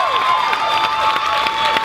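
Convention Q&A audience clapping and cheering with whoops, a lively burst of many hands and shouts in a hall.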